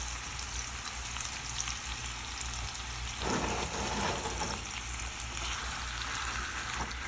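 Beef enchilada filling sizzles steadily in a pan over medium-high heat, a dense, constant frying crackle that swells a little louder partway through, with no talking.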